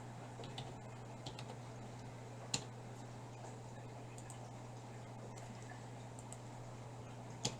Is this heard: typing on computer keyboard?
yes